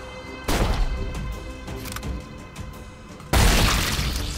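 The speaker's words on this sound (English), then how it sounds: "It's a grenade." A grenade blows up in the zombie game The Walking Dead Destinies with a sharp blast and shattering debris, then a second, louder explosion hits a few seconds later, close and with no voices.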